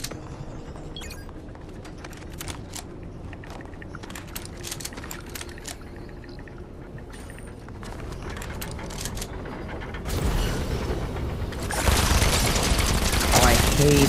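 Turret gunfire in Fortnite solo play, rapid bursts of clicking shots that grow louder and denser toward the end, with a voice talking over parts of it.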